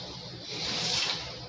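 Water pours into a burnt saucepan, a short rushing splash that swells in the middle and eases off, heard alone and fairly close.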